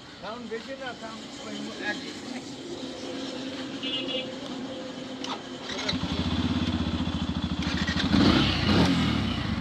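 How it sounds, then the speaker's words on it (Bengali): A Yamaha FZ-S V3 motorcycle engine cranks, starts and settles into a steady, louder idling thrum near by, with people talking over it early on. "তুমি একটু চালু করে ইঞ্জিনটা ইয়ে করো তো।"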